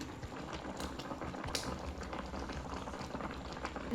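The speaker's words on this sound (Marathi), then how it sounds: "आता कालवणाला उकळी आली" A pot of fish curry made with a large khadshi fish bubbles at a steady rolling boil, a continuous close hiss and burble with no pauses and no voices.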